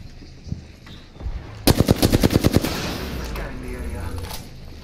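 Gunfire in Apex Legends: a rapid automatic burst of about ten sharp shots close by, followed by lower rumbling game sounds.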